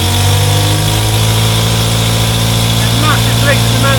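A Morris Minor engine, its choke pulled out, running loudly and steadily at idle with a deep, constant rumble and vibration, no break in the drone and faint tonal squeaks near the end.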